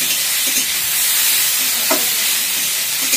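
Shrimp and leafy greens sizzle and fry in a pan, a steady bright hiss with occasional stirring scrapes, loud and close with no talking.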